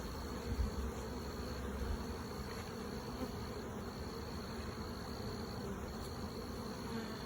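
Honeybees hum around an open nucleus hive during installation, a dense, continuous buzzing swarm close by, steady throughout with no talking.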